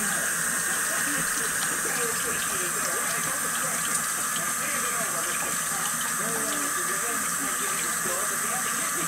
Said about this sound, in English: So I'm turning the water off.